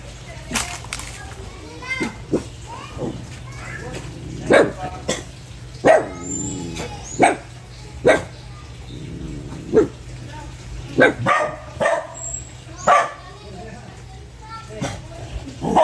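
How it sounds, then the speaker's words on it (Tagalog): A dog barks in short, sharp, repeated yelps at a family home, sounding fairly close, with people talking in the background throughout. "May aso."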